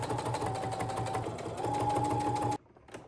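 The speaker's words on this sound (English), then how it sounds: "you need to start your top stitching in the center of your project and work your way out" A sewing machine top stitching fabric for a birthday crown, its needle running in a steady rapid rhythm, close and even, then stopping abruptly with a faint click after.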